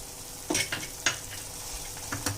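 Homemade khoa is stirred into sugar syrup in a pan for Double ka Meetha, with a soft simmering hiss broken by several sharp scraping strokes of the spoon.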